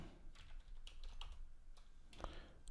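Someone types code on a computer keyboard in short, quiet bursts of close key clicks against a low background hum.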